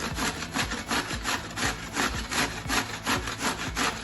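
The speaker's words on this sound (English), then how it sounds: "using your standard box grater, I'm just gonna" Courgettes rubbed down a standard box grater in steady back-and-forth rasping strokes, close and fairly loud with no talking, about eight passes in four seconds.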